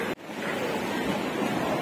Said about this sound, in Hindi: यहाँ देखिए पानी रोड के ऊपर ही आ चुका है।